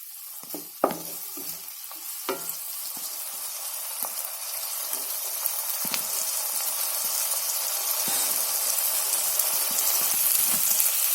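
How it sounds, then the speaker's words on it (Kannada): Ginger paste frying in a pan over a medium flame for palak soup: a steady, close sizzle that slowly swells louder, with a few sharp stirring clicks near the start. "ಇದನ್ನು ಮೀಡಿಯಂ ಫ್ಲೇಮ್ನಲ್ಲಿ ಚೆನ್ನಾಗಿ ಫ್ರೈ ಮಾಡಿಕೊಳ್ಳಿ"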